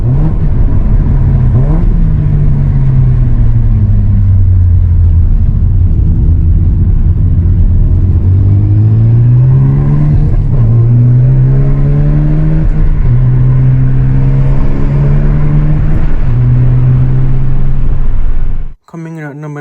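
A Mazda RX-7 FD3S sports car engine revs hard and climbs through several gear changes, loud and close, with pitch rising and dropping in waves before it cuts off abruptly.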